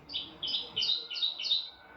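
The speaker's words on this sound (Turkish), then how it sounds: "Uzungöl'de sessizliği kuş sesleri bozdu" Birds sing at Uzungöl lake in a wooded valley of the eastern Black Sea region in winter: about five short, bright chirping phrases follow one another in quick succession, moderately close, over faint background hiss.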